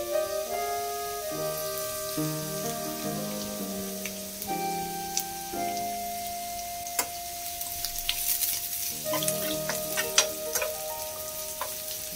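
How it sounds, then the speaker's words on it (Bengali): Carrots and chopped garlic fry in a pan for egg fried rice, a soft crackling sizzle running beneath prominent background music, with occasional small ticks and clicks. "এবারে আমি এর মধ্যে রসুন দিয়ে দেব, রসুন কুচি।"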